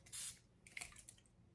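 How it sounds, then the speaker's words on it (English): An Evian facial water aerosol can gives a short hissing spray burst, then a second fainter, broken spritz, close up in a quiet room. "This is the Evian facial spray, and it is literally just canned water."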